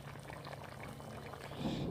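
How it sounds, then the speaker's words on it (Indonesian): Coconut milk broth bubbling at a rolling boil in a pot, a steady soft simmering burble with a slight swell toward the end, heard close with no talking. "Jika sudah mendidih seperti ini,"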